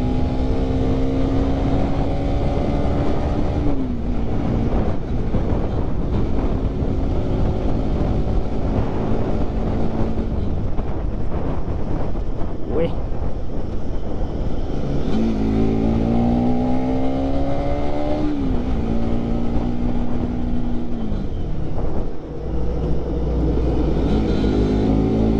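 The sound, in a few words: motorcycle riding on a road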